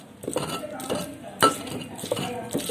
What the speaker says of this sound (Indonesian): Ini bumbu mulai diulek.